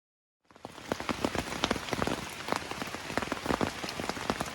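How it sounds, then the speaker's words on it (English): Heavy rain at night drums on a tent in dense, irregular patters, with sharper drops spattering close by, rising in after a brief moment of silence and holding steady. "It's been raining like this all night. I thought my tent was dry, but I'm starting to get some splashback."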